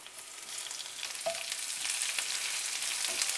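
Chopped onions hit hot oil with browned garlic in a pan, giving a loud, continuous crackling sizzle that rises after a quick stir.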